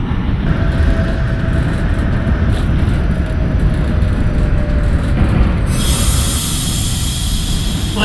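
An NYC Subway R68A train in the OpenBVE simulator runs steadily with a loud continuous rumble of wheels on rail and a thin squeal, brighter hiss rising near the end, no talking.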